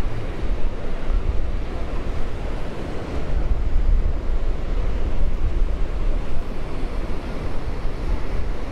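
Ocean surf rushes and breaks continuously beside a large natural pool at Punta del Hidalgo, Tenerife, a broad steady roar mixed with wind buffeting the microphone.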